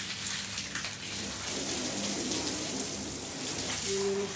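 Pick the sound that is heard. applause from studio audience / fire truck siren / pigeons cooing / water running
water running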